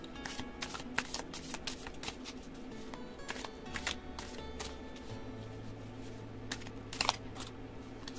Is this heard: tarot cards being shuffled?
yes